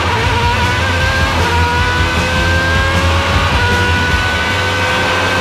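A race car engine lapping Estoril circuit, a loud sustained close-up engine roar with rising pitch lines as it builds revs through the gears, heard from onboard with no talk.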